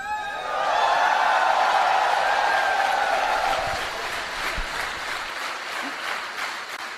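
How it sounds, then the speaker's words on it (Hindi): An audience applauds for the women taking part in a business, a broad wash of clapping that swells quickly near the start and carries on steadily, slowly thinning toward the end. "मैं आपसे निवेदन करता हूं कि इस बिजनेस में शामिल महिलाओं के लिए जोरदार तालियां बजाएं"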